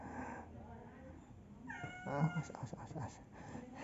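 A cat meows close by, one drawn-out wavering call that comes after a quieter stretch of background murmur.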